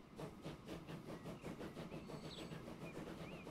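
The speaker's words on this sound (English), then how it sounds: "these really long trains here that we've got ticking along this line" Long trains roll along a line in the transport simulation game Transport Fever 2, giving a rhythmic clickety-clack of wheels over rail joints under a steady rumble, with faint squeals, moderately close and unaccompanied by talk.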